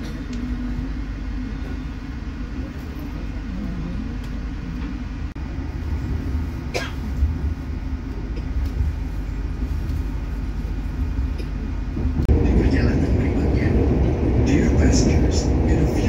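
Lodaya passenger train running on rails, a steady low rumble and rolling clatter of the carriage throughout, growing louder and busier in the last few seconds.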